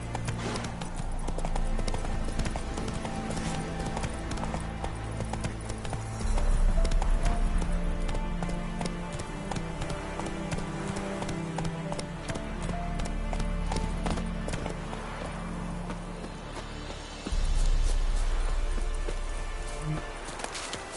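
A horse gallops in the video game The Witcher 3, with rapid, rhythmic hoofbeats that run without a break over a bed of game music.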